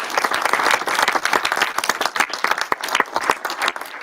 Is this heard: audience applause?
yes